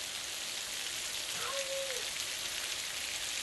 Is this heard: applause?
no